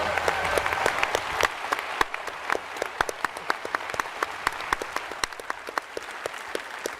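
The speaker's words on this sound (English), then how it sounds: "So everyone give Ian a round of applause." An audience at a Pax East gaming event applauds. Dense, sustained clapping from a large crowd fills the room, with sharper individual claps standing out throughout.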